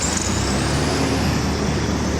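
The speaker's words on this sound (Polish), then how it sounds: "Przepraszam za hałas autobusowy." Bus noise from nearby road traffic: a continuous loud engine and road rumble with a broad hiss, steady for the whole short stretch with no talk over it.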